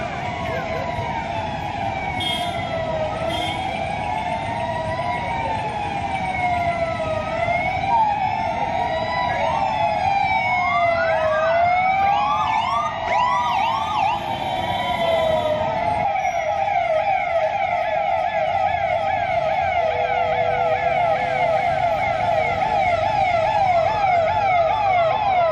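Several police vehicle sirens wail continuously during a night route march through city streets, overlapping rising and falling tones sounding close and loud, with traffic noise and a voice speaking underneath.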